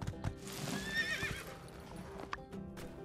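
Horse hooves clip-clop in the video game My Time at Sandrock, a few close, crisp hoof strikes together with a whinny, with no talk over them.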